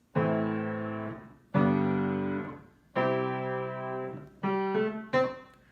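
A piano plays the introduction to a song, five sustained chords struck one after another, each ringing and fading before the next, the last two shorter and quicker; played alone and clear.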